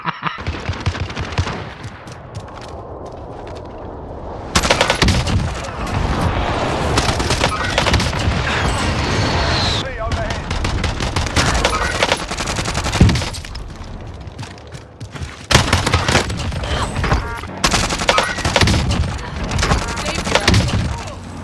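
Rapid automatic gunfire from EM2 and OTS 9 weapons in a first-person shooter, dense sustained bursts broken by brief pauses, with booms and thuds mixed into the loud, busy battle soundscape.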